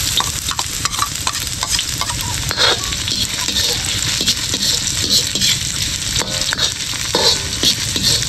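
Garlic and onion sauté in a hot pan with a steady, loud sizzle and frequent stirring scrapes, continuous throughout and free of speech.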